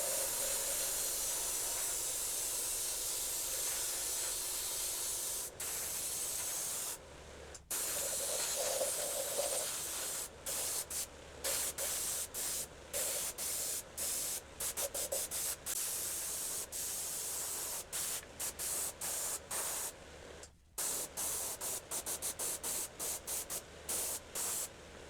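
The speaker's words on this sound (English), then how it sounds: "The primer will be the same as always from brand Vallejo. I have added to the airbrush and I apply entirely on the surface." Airbrush spraying Vallejo primer across the surface of a 3D-printed figure, a steady close hiss broken by frequent short pauses and brief bursts as the trigger is released and pressed again.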